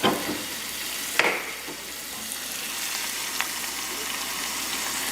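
Food sizzling and frying steadily in a pan for a pizza topping of andouille sausage, shiitake mushrooms and black garlic, a continuous hiss with a couple of sharp spits near the start.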